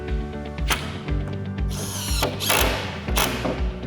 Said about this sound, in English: This will start with 3 pieces of wood that will be screwed together by 4 screws.